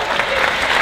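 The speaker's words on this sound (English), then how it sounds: "Yeah, you can applaud." An audience at a live game design panel breaks into a brief, dense burst of clapping and cheering, loud and close, with no pause.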